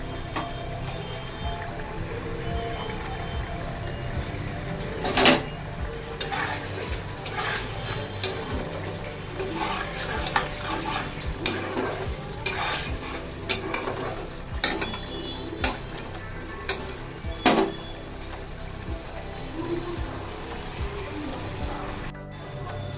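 Fish being cooked in a pan with water added, giving steady stirring and a low bubbling sizzle, with repeated metallic clinks of a utensil against the pan close by.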